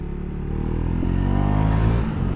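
A 400cc motorcycle engine drones steadily at low revs, close and loud, with a rumbling even tone while riding at low speed through town in the evening.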